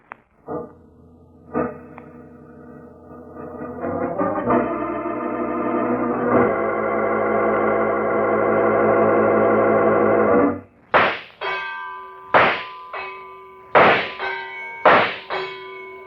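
Radio sound effect of a shooting gallery at a penny arcade: a sustained, droning, music-like tone, then five or six sharp cracks, each followed by a bright, bell-like metallic ring from the struck targets.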